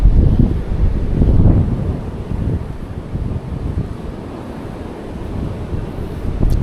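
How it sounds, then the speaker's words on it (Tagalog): Strong sea waves roll and wash at an overnight fishing spot, a continuous loud rumble mixed with gusty wind buffeting the microphone, with no speech. "Patigilin muna natin yung malalakas na alon niya."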